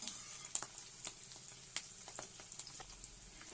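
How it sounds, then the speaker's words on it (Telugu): Curry leaves frying in oil in a pan, a steady crackling sizzle with sharp pops and spatters scattered throughout, close and fairly quiet, with no talking. "ఆ కరివేపాకు వేసుకొని మంచిగా ఫ్రై చేసేసుకుందాం"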